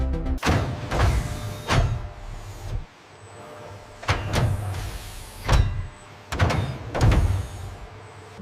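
Heavy mechanical door mechanism on an Airbus A400M weapons bay, heard as a series of about six separate actuator motions, each a loud whirring clunk or thud with pauses between, no voices.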